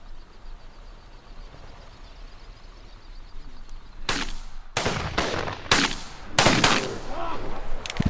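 Shotgun blasts during a duck hunt in Canada, a rapid cluster of five or six loud, sharp reports close together after a quieter stretch of outdoor ambience.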